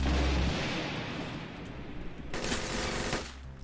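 Rapid automatic gunfire from a Roblox Arsenal match, a dense loud burst of shots at the start settling into continuous rattling fire with a sharper flurry near the end.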